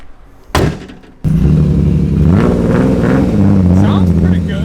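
Car engine revving hard while spinning donuts, a door or hood slams shut, then a loud, steady, rising and falling engine roar carries on close by.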